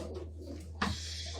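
A racing pigeon in a loft gives a brief soft coo, close and quiet over a steady low hum.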